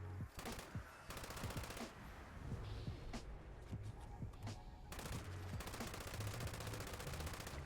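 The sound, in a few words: LMG light machine gun firing in video game Fallout 76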